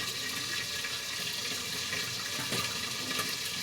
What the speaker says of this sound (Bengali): পাত্রে একটু জল নিয়েছি অল্প করে জল দিয়ে দেবো